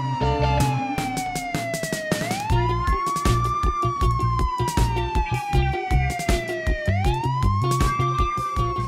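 A police car siren in the Ice Scream 7 video game wails in long rising and falling sweeps, loud and continuous, over busy game music.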